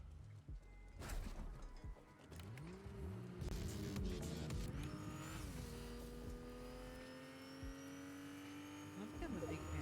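A car engine in a video game revs up and holds a steady drone as the vehicle drives off, fairly loud and continuous, with a voice talking briefly over it.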